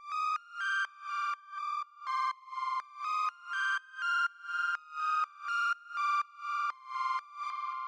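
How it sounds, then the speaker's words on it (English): A synth lead from a jazzy underground house track plays a bright, clipped melody of short repeated notes in a steady, bouncy rhythm, fairly quiet and alone. "The next sound I have here is this lead"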